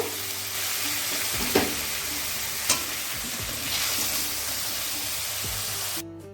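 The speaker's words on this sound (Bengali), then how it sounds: "পাঁচ মিনিট মতো ভেজে নিলেই হয়ে যাবে চিকেনের টুকরোগুলো" Chicken pieces frying in a pan for pizza topping, a steady broadband sizzle with a few brief clinks of a utensil stirring, close and alone with no voices.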